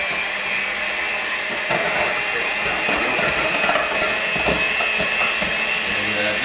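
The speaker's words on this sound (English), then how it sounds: "And on low speed, we'll beat the egg bit." An electric mixer whirs steadily on low speed, beating egg and sugar for brownie batter, a continuous motor hum with faint clinks against the bowl.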